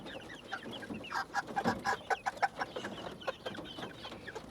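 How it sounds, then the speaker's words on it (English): A farm chicken clucks in a quick series of short, bright calls, fairly close and moderately loud, with no talking over it. "Cute little chicken with an attitude."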